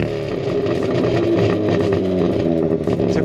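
Hyundai i20N hot hatch in N mode, engine revving steadily with its active exhaust crackling and popping in short bursts, loud and close, heard from inside the cabin with no talk.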